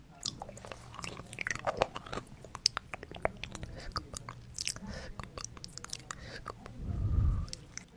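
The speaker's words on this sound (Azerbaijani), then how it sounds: "Taxtanı yeyir." Someone biting and chewing on wood for a relaxation clip, giving close, crisp crunches and clicks in an uneven rhythm with soft mouth noises and a low thump near the end.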